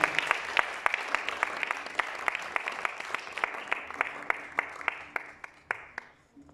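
A concert audience at a humanitarian concert applauds with dense, sharp clapping that fills the space, then thins and fades out near the end.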